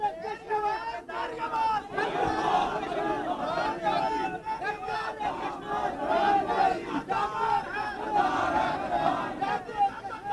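A large political rally crowd in Pakistan roars and chants slogans in unison, a dense, loud wall of shouting voices that swells and rises across the whole stretch.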